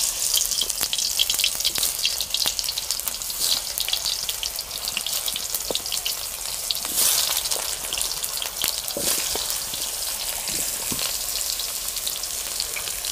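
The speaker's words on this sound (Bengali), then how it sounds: "কুমড়োগুলো ভেজে নেব।" Pumpkin pieces frying in hot oil, a steady close sizzle and crackle with scattered pops throughout, no voices.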